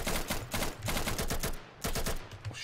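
Rapid automatic gunfire from the combat game Insurgency rattles in dense bursts with a short gap in the middle, loud and close, with no talk over it.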